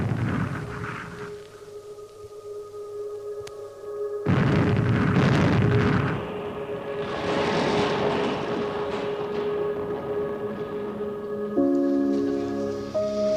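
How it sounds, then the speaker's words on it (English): Deep booming explosions of a British Army artillery bombardment, a documentary sound effect, rumbling heavily under a droning aircraft-like tone and sustained musical hum. "It was a mark of Connolly's reputation that the first place the British Army bombarded was Liberty Hall"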